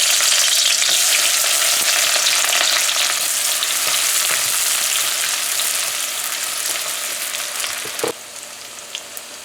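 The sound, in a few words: onions frying in hot oil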